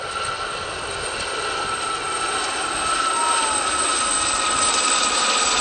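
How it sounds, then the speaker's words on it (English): Loud, steady rotor and turbine drone of Westland Gazelle helicopters in a low display flypast at an air show, a continuous whine that swells slightly, with no talk. "They're the only civilian helicopter display team in the UK at present"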